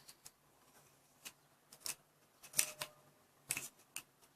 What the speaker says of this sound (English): Now just tape it.